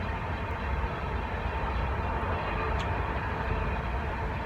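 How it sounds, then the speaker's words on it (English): A train rumbles past on a Sunday morning at steady, heavy volume, a continuous low roar of wheels and cars without pause. "And now a train's coming."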